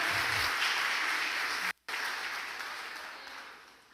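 A church congregation applauds in a sustained wash of clapping that cuts out briefly, then resumes and gradually fades toward the end.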